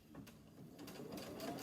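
A sewing machine tacks down quilt wadding in quick, rhythmic bursts of stitching, with a brief pause before the motor picks up again, fairly quiet and close, with no voices.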